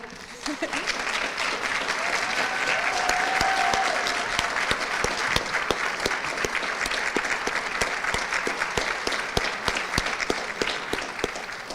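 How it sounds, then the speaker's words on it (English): Steady applause from a luncheon crowd at an awards event, honoring a woman named Sue, loud and continuous for about eleven seconds with dense clapping throughout. "if everyone wouldn't mind giving Sue a round of applause"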